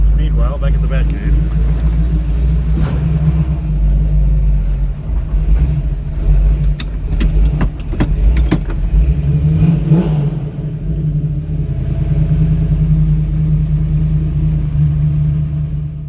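A Dodge Challenger's engine rumbles steadily on a test drive, with a low continuous drone and a couple of revving swells midway, loud and close throughout.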